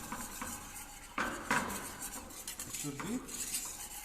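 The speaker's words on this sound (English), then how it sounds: "So we have to keep it stirring with a whisk." A whisk stirs milk in a pan with quick metallic scraping and clinking against the sides, fairly close and moderately loud in uneven bursts, while a voice speaks briefly.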